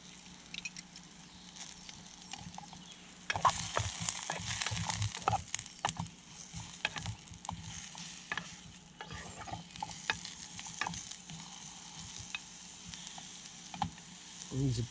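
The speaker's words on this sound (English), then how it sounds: "I'm going to start stirring." Food frying in a pot on a Solo Stove Lite camping stove gets stirred with irregular scraping, clattering strokes over a low, continuous sizzle, loud and close.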